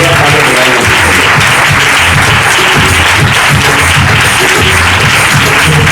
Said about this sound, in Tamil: ஜோர அவங்களுக்கு நாம் கைதட்டுவோம்